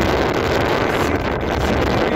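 Strong wind blows snow across an open Yukon landscape, a loud, continuous roaring rush buffeting the microphone without a break.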